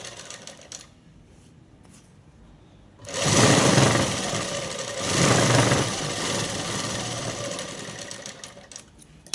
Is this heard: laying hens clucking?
no